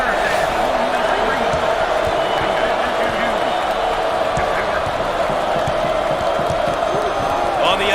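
A college basketball video game crowd roars and cheers continuously in a hometown arena, steady loud crowd noise with a play-by-play commentator talking over it throughout.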